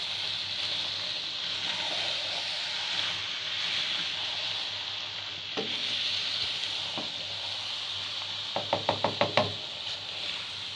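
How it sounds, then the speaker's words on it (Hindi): Vegetables with spices, including cauliflower, cook in a pot with a steady low sizzle while occasional scrapes sound, followed near the end by a quick run of five or six sharp knocks of a spoon against the pot. "हम करेंगे इसे मिक्स, हिलाना"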